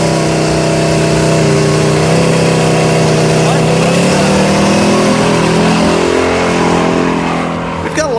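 A Jaguar car accelerates hard on a road course, its engine note rising steadily in a loud, close, continuous pull that climbs through the gears before easing off at the end; people talk over the engine.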